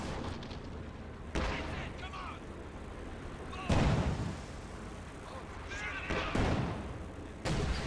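A white phosphorus artillery barrage rains down in a WWII strategy video game, with four heavy booming impacts spaced a few seconds apart over a rumbling battlefield background while a voice talks.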